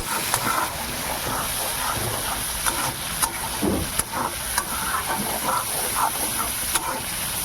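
Fish oil fries in a pan with soaked mustard powder added, a loud, steady sizzle broken by scraping stirs and occasional clinks close at hand.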